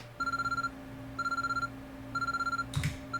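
A telephone rings in a room in the visual novel game Chaos;Head Noah, sounding in three regular bursts of electronic trilling over a steady low hum, followed by a brief clatter.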